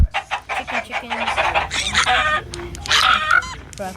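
A group of chickens clucks and squawks close by in a quick, busy run of calls, with a brief voice in the background.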